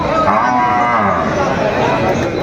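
A cow moos loudly and close at a cattle market, one long drawn-out low call filling the whole moment.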